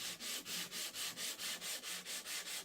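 Rhythmic hand sanding on a curved wooden cabinet drawer front, about ten even back-and-forth strokes of sandpaper rasping close up, steady and unaccompanied by talk.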